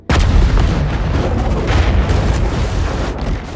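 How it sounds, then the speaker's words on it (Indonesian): A big grenade blast in an action film sets off one sudden loud boom, followed by a sustained thundering rumble that fills the whole stretch. "Johnny telah mencabut granat yang Robico bawa hingga terjadi ledakan besar."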